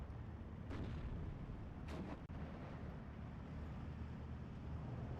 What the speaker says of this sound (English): This Sherman's shooting at Zis2.